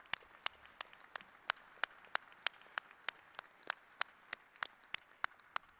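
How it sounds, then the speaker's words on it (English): Applause at a college of engineering graduation ceremony, heard as faint, distant, evenly spaced claps in a steady rhythm rather than a dense ovation. "Join me in a last round of applause."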